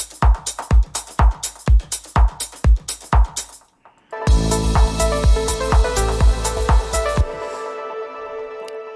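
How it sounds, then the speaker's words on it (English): Melodic house percussion with kick drum built from Ableton stock plugins, a steady thumping kick and clicky hits that pause briefly, then return with denser tonal percussion and a fuller groove. "all the percussion together with the kick sounds like this"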